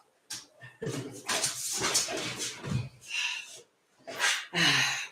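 A dog whimpers, yips and snorts in short, broken bursts while being wiped clean of dirt, the fretful cries coming close and fairly loud with brief pauses between them.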